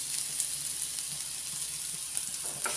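Onions and garlic sizzle steadily in a hot pan, a continuous close frying hiss with faint stirring scrapes throughout and no voices.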